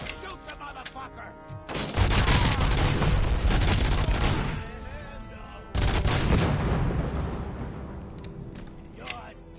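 Heavy automatic gunfire from the film Robocop, loud, dense bursts from close by with echoing booms, pausing briefly near the middle before another sustained volley that fades out.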